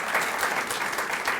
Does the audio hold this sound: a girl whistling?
no